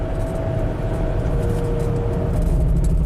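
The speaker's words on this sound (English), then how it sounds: "It's got some funny wind noises." A 1995 Mercedes E320 cruises with a steady low road and engine rumble, a faint sustained tone and an even wind rush over the cabin, with no break.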